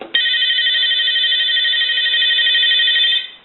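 A brushed stainless reproduction Ericofon telephone rings with a single loud, close electronic trill that starts abruptly and holds steady for about three seconds before cutting off.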